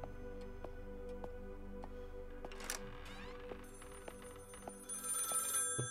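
A telephone rings inside the horror video game Maid of Sker, its bell tones repeating in a steady rhythm over a low game ambience, with a brighter chime near the end.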